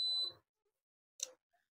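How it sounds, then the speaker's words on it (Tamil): Yamaha RX100 motorcycle giving a short electronic beep when switched on: a brief steady high tone at the start, then a quick second chirp, with silence after. "இந்த வண்டி ஆன் பண்ணும்போது ஒரிஜினாலிட்டியாக பீப் சவுண்டு வரும்."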